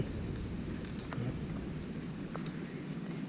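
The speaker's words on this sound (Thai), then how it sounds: "ฝนตกใส่เพิ่นขี้ดินเต็มเลยครับ" Steady rain falls outdoors in a forest during a mushroom hunt in Chiang Kham, Phayao, a dense even hiss with a few faint sharper drops and no talking.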